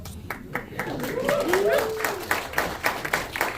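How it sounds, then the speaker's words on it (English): Scattered hands clap in a packed New Hampshire venue at a New Year's Day rally, sharp irregular claps under a crowd murmur and a voice speaking. "some of you are clapping"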